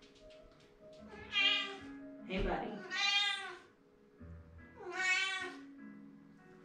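A house cat meows several times during an indoor stretching session, drawn-out close meows spaced across the moment, with a person speaking briefly between them.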